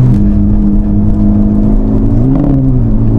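A Honda Civic Type R FK8 tuned to 316 bhp pulls hard on a race track, its engine note loud and close inside the cabin, droning steadily and then climbing briefly in pitch as it accelerates out of a bend.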